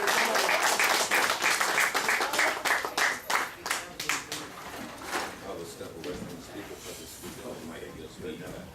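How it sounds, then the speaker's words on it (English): Audience claps for a speaker being welcomed at a Reconstruction-themed gathering, loud at first and thinning out as the clapping fades, with voices talking over it. "come on, clap it up, clap it up."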